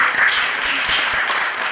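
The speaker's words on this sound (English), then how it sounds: "Round of applause for him." Applause from the audience at the National Spelling Bee semifinals, honouring the judge, a former champion. Steady dense clapping fills the whole short stretch at an even, moderate level, with no pause or swell.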